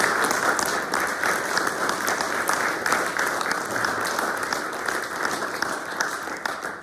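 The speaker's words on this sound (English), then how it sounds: "I think this man deserves a very, very strong round of applause." Sustained audience applause at a seminar lecture, a steady dense wash of clapping from a large room that holds evenly for several seconds and tapers slightly at the end, with no voices over it.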